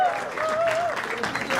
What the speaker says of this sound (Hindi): जोरदार तालियां for तन्मय भाई man